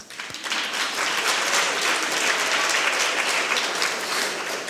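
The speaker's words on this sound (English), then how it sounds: "Please give yourselves a round of applause." An audience at the 2018 Young Gifted & Black Entrepreneurial Awards ceremony bursts into dense, sustained applause that holds steady for several seconds, with many hands clapping at once and no voice over it.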